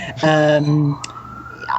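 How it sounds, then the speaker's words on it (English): An emergency vehicle siren wails on a New York street, loud at first, then a long sustained tone fading under close talking voices. "I don't know if you can hear me over that siren."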